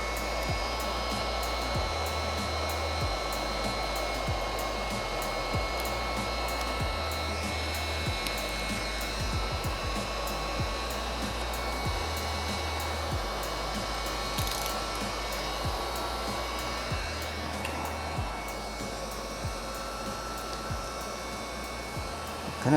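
A heat gun blows hot air over dark vinyl wrap being applied to a car's side skirts, giving a continuous close whooshing hum with a pulsing low cycle, unbroken and without voices.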